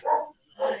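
During an online video call, a dog gives two quick barks in succession, close and fairly loud, with no speech over them.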